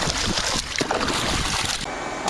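Pool chemical container being rinsed out with water outdoors, a continuous splashing, sloshing wash with some gurgling, close and steady throughout.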